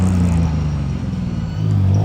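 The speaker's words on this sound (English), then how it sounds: "Okay, I'm gonna attempt a gear change." A tuk-tuk engine drones close and loud with a low, steady rumble that dips and wavers during a gear change before picking back up.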